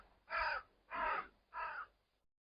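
Three loud, harsh crow caws in an even rhythm, fairly close over a quiet allotment garden plot in Scotland, with near silence between calls.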